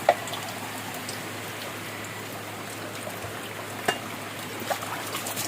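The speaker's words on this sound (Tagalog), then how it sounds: "Grabe ang ulan kaganiha ni wala pa nag-undang." Heavy, steady rain hisses and patters continuously, with a few louder drips standing out against the constant wash.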